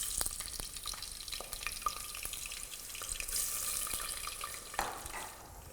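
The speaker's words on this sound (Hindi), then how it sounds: "दूसरी तरफ तेल गरम हुआ तो उसके अंदर आलू डाल दिए।" Potato pieces fry in hot oil in a home kitchen pan, giving a steady close sizzle dotted with sharp crackles and pops throughout, with no talking.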